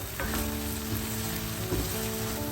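Curry leaves crackle and sizzle in hot oil for a Sri Lankan-style beetroot curry, a steady close frying hiss with bursts of popping and spatter, no voices.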